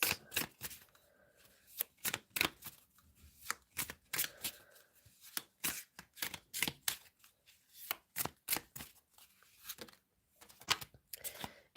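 Tarot cards are shuffled up close in repeated crisp, riffling bursts, one after another, with brief pauses in between and no voices.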